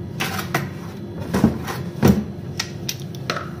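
A refrigerator drawer slides open in a kitchen, giving a couple of short scraping and knocking bursts at moderate level with soft clatter in between and no talk.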